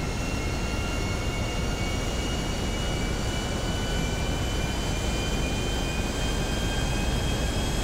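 A steady, loud roar of an airplane taking off fills the space, heard from inside the cabin as a constant broadband rumble with faint high whines, without any break or talk.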